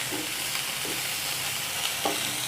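Cubed capsicum (bell pepper) is lightly sautéed and stirred in a pan while making white sauce pasta, giving a steady soft sizzle with a few faint scraping stirs.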